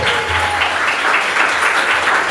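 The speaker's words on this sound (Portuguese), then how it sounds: "Glória, aplauda Jesus." A church congregation claps loudly and continuously, a dense, close wash of applause filling the whole moment without any clear speech.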